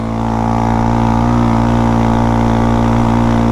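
Honda Grom motorcycle engine holding a loud, steady, close-up drone throughout, with no voices over it.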